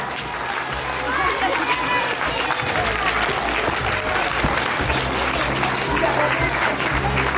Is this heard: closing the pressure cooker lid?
no